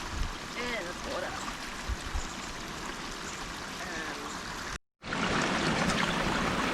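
A creek trickles and burbles through a small wooded glen on rural property, a constant close water sound with some faint voice-like bits mixed in, cut by a brief dropout before the flow resumes louder.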